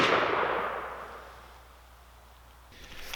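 A Pietta 1858 stainless steel black powder revolver fires a single loud shot, its sharp crack at the very start trailing off into a long fading echo before a faint click at the end.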